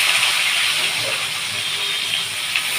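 Bitter gourd pieces tipped into hot tempering oil set off a loud, steady sizzle, a bright hiss that holds without pause for a few seconds.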